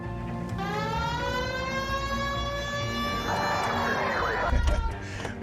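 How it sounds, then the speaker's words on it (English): A police car siren in the video game L.A. Noire winds up into a loud, sustained rising wail that holds a steady pitch, with engine rumble and game ambience underneath. "Hit the siren."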